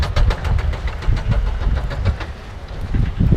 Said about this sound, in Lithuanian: ten važiuoja traukinukas.